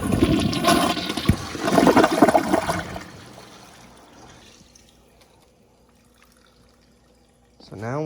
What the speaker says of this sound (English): So now we'll do some regular flushes.